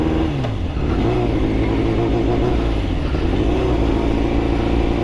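A Yamaha NMAX scooter engine drones loudly and steadily while being ridden, its pitch sliding down and then rising again as the throttle changes.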